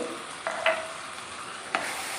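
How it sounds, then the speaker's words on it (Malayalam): A spoon scrapes twice around a pan of lemon and kanthari chilli pickle over a soft, steady sizzle on low heat, with a quiet pause between strokes. "എന്നിട്ട് അതും കൂടെ നല്ലപോലെ ഒന്ന് ഇളക്കി തീ കുറച്ച് വെച്ച് ഇളക്കിയാൽ മതി"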